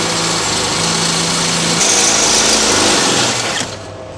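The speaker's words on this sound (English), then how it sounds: "So I'm just going to do the drilling because I'm holding this little box here which is going to collect all the swarf." A drill boring holes for cable glands through a small metal box on a 630A three-phase supply job, a steady high-pitched whine running close and loud for about four seconds before easing off at the end.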